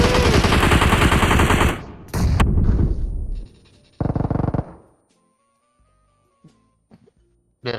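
Gunfire in PUBG Mobile: loud, close automatic bursts that rattle for several seconds, then a final short burst before near silence with faint game sounds.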